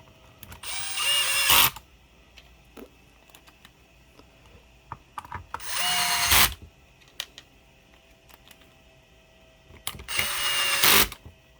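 Screws driven into the housing of a DeWALT 20V Max DCS438 cut-off tool, with three separate bursts of a whirring power driver and small clicks and taps in between.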